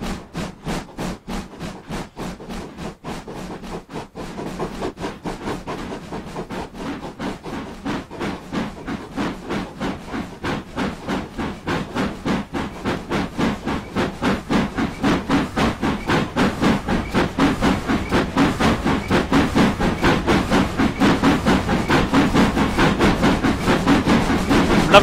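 A GWR Castle class steam locomotive from Train Simulator 2016 on the 1950s Riviera line rolls past with a loud, steady chuffing rhythm that quickens and grows louder over about twenty-five seconds, with a constant hiss of steam underneath.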